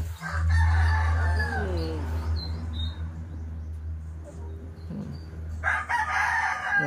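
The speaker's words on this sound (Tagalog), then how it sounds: "Ito yung aking Japanese Shamo." A Japanese Shamo rooster crows loudly and close by, a drawn-out call with a rising and falling pattern, followed by quieter clucking and a second crow starting near the end over a steady low hum.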